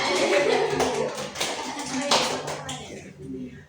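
A class of high school students in an Indonesian literature lesson claps for a student group, a busy round of many hands that fades out near the end as voices talk over and after it.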